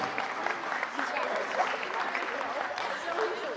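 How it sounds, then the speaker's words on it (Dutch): Applause fills a sports hall during an award ceremony for a Christmas tournament, a steady wash of clapping from the crowd that carries on for several seconds. "Even één keer een applaus voor de Blue Stars erop."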